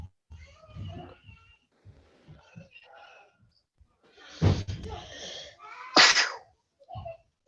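One sharp, loud sneeze bursts out nearby amid scattered speech, with a breathy intake just before it.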